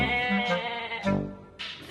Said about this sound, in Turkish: Oy, koyunlar.